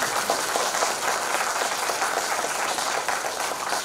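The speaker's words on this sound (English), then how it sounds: "applause." An audience claps to welcome a lecturer at a memorial lecture, a continuous, even roar of many hands that holds steady throughout, fairly loud and without speech.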